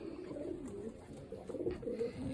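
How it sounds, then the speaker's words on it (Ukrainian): Soft, low cooing of Janssen and Delbar pigeons repeating in gentle murmuring phrases inside a pigeon loft, close by, with a faint background hum. "Крупні, здорові, гарні голуби."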